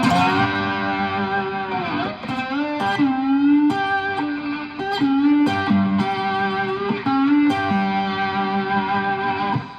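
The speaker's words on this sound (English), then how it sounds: "with lots of vibrato and lots of distortion, you can hold that note forever" A heavily distorted electric slide guitar, a three-string cigar box guitar, holds sustained notes with wavering vibrato, sliding between pitches in a continuous, singing line.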